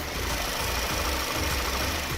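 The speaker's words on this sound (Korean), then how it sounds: "영상으로 엔진 소음 한번 담아보도록 하겠습니다" A gasoline Chevrolet Impala sedan's engine idles with the hood open, giving a steady low rumble that stays even and continuous, close by with no voices.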